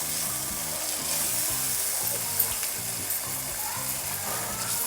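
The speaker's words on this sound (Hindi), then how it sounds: "हम चम्मच चलाते जाएंगे, टमाटर खुद ही खुद दब भी जाएंगे और इसका पानी भी ड्राई हो जाएगा।" Tomatoes for chicken karahi fry with a steady, dense sizzle while a spoon keeps stirring through them, with faint scraping against the pan and no voices.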